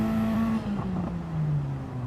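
Race car engine in a racing video game on the Daytona road course, a sustained engine note sliding gradually downward in pitch, heard alone without talk.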